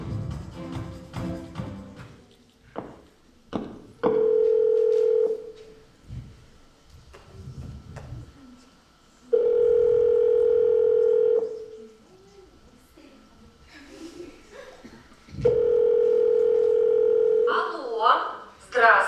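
Three long steady telephone tones ring out loud as a call is placed, each lasting about two seconds, separated by bursts of speech and handling noise in a hall during an awards ceremony.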